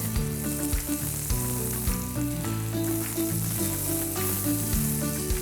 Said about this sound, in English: So as they keep getting grilled, I'll take them out in the plate